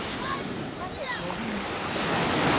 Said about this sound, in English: the actual waves come straight up over my sandals